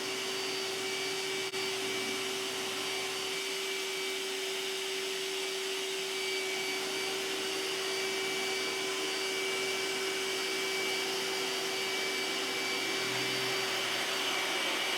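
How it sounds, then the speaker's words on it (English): An iRobot Roomba S9+ robot vacuum runs with a steady, even whir and a constant high tone. It stays close and level throughout, with no talk. "One of the reasons right there why I love a Roomba, it's got the dirt sensor in the bottom"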